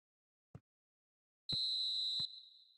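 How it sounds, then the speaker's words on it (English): A referee's whistle at the end of a football match gives a single loud, sustained shrill blast lasting under a second, preceded and split by a couple of short knocks, then fading. "And there goes the final whistle."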